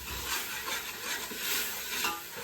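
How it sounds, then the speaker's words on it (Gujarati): Ingredients for Gujarati dal dhokli fry in hot oil in a pan, giving a steady, dense sizzle with faint stirring scrapes underneath, close and continuous throughout, with no voices. "પછી આ બધી જ વસ્તુ તેલમાં ચડવા દેવાની."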